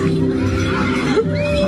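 A horse gives a short, loud neigh that rises and wavers, heard close over a noisy outdoor background with people talking.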